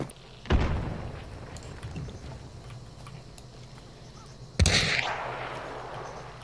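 Gunfire between two opposing groups in the Hunt: Showdown video game: two sharp, loud shots several seconds apart, each with a long echoing tail, over a low ambient rumble.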